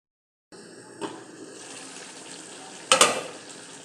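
Chicken curry sizzles and is stirred in a pan, with a soft steady fry, a light clack near the start and a louder burst of sizzling and scraping near the end.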